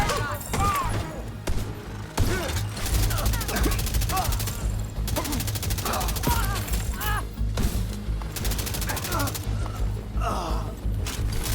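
Heavy gunfire in The Division 2 video game, dense bursts of automatic fire and sharp shots crackling almost nonstop during a firefight, loud and close, with impacts and game voices mixed in.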